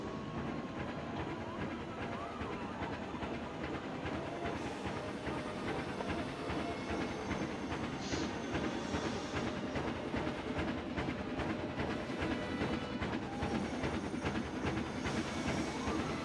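A train in the Planet Coaster theme park game rolls in with a steady, fairly faint rumble, rail clatter and hiss that continue evenly from start to finish, with no voices.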